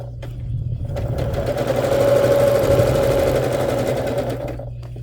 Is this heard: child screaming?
no